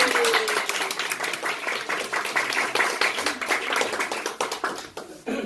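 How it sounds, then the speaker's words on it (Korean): A church congregation at a Sunday service clapping together, distinct sharp hand claps in a loose, fairly quick rhythm, loud and close, easing toward the end with a final few claps. "우리 한번 박수 한번 쳐드릴까요?"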